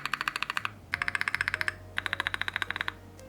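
Rapid, crisp keystrokes on a modded Noir N1v3 mechanical keyboard come in three fast bursts of evenly spaced clacks, close and clear over a faint background hum.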